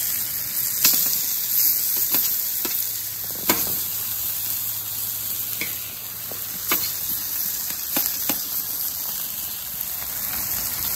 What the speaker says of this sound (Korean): 지글지글 잘 익습니다.